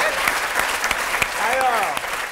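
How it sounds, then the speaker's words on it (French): Loud studio audience applause on a French TV talk show, a dense burst of clapping with a few louder individual claps and brief voices cutting through. "On peut applaudir Péri Cochin."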